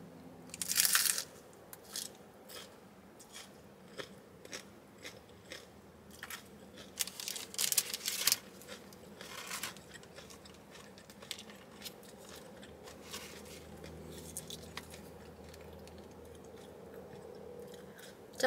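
Crunchy bites into an orange Doritos Locos taco shell from Taco Bell, heard as sharp close-up crunches in irregular bursts followed by quieter chewing, with no talking.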